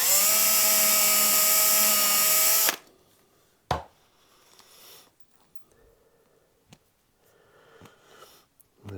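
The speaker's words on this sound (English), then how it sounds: "So just hold that in position and get the first screw in." Power driver spins a wood screw into a Telecaster guitar body, a loud steady whine for about three seconds that cuts off abruptly, followed by quiet workshop handling with a few sharp knocks.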